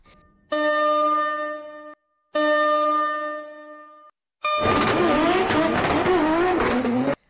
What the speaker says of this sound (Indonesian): mereka berdua tetap menggeber mobil dengan kecepatan luar biasa